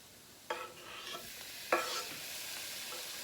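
Tomato, garlic and Scotch bonnet stirred in a hot pan for Cajun shrimp and grits, two sharp utensil scrapes against the pan over a soft continuous sizzle.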